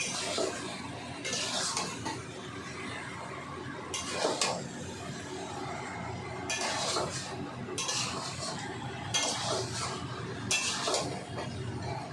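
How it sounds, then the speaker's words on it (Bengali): A spoon stirs and sautés a country rooster curry with chopped tomato in a pot, giving repeated metallic scrapes and clinks in uneven bursts over a steady low kitchen background, with no voices. "কেটে রাখা টমেটো কুচি দিয়ে নিলাম এবার সব একসাথে ভালো করে কষাবো"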